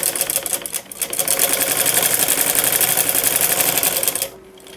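A sewing machine stitches the folded waistband of a salwar in a loud, rapid, steady run of needle clatter, briefly dipping near the start, then stopping abruptly before a quiet tail.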